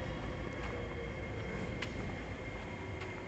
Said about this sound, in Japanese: また結構新しい路面電車ですね